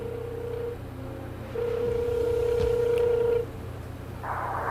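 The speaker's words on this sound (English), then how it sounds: "It's ringing." A steady electronic telephone ringing tone sounds for a couple of seconds on a call, then cuts off, with faint background hum and a brief noise burst near the end.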